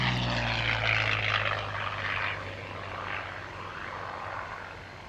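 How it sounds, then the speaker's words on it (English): At the Kemble Airshow, a Curtiss Kittyhawk fighter flies past with a steady propeller-engine drone under a broad whooshing rush. It is fairly distant and fades slightly as it moves away, with no voices. "the Kitty Hawk is definitely a true pilot's aircraft"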